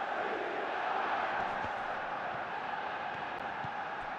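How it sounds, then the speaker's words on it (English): Stadium crowd in the eFootball PES 21 video game applauds and roars for a substituted player during an Arsenal versus Manchester City match, a steady, broad wall of sound with no clear talk over it. "it's good to see that the crowd appreciate his efforts"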